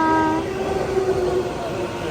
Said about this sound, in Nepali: छुकछुके रेल